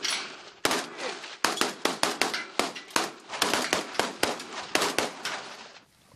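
A series of sharp, loud single gunshots at a firing range, about twenty in quick irregular succession, each cracking close by and ringing off briefly before the next.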